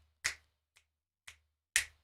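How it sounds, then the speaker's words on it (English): Four crisp finger snaps, close-miked in a quiet home studio with a noise gate on the mic: three strong snaps and one softer one, spaced about half a second apart in near silence. "I'm snapping my fingers."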